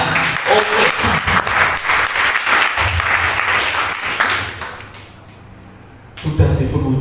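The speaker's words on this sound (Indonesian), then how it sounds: "Tepuk tangan buat kita semuanya." An audience at an Indonesian podcast event breaks into loud, dense applause that keeps going for several seconds, fades lower, then swells again near the end.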